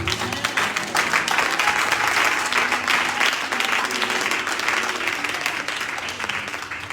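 A church congregation at a night vigil applauds steadily, a dense, loud wash of clapping mixed with cheering voices that carries on without a break.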